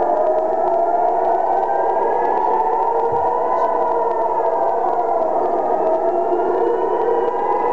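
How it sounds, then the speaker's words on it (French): An air raid siren sounds at an outdoor pro-Israel rally in Brussels, a steady, loud wailing tone with slowly shifting pitch held throughout, no speech over it. "La sirène que vous allez entendre retentit sans cesse dans le ciel d'Israël"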